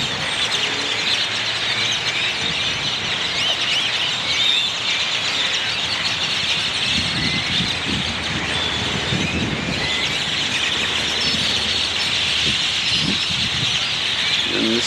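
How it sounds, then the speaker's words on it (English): A tree full of birds in Texas fills the air with dense, continuous chirping and calling, many voices overlapping at once, loud and unbroken, with low rumbling traffic noise underneath. "there's just a lot of birds and a lot of noise."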